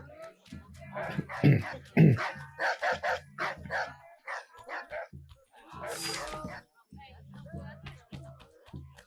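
A guard dog barks in Assassin's Creed III, heard in short bursts mixed with someone talking over the game sounds.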